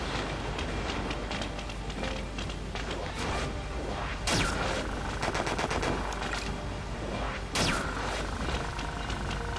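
Rapid gunshots and mechanical reload clatter in the video game Disaster: Day of Crisis, bursts of fire with a couple of sharp louder impacts, steady and fairly loud with no talking.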